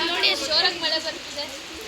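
Heavy rain pours during an outdoor family wedding ceremony, a steady close hiss running the whole time beneath voices and tonal sounds.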